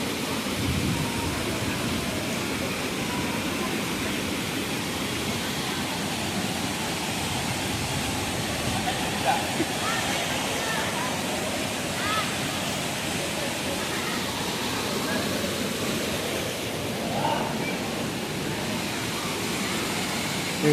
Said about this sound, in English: Boiling hot water coming out of the mountain there.